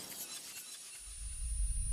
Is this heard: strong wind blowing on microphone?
no